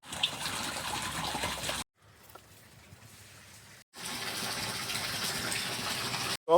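Water from a hose gushes into an emptied garden pond on a UK smallholding, a steady loud splashing rush that cuts out briefly in the middle before resuming.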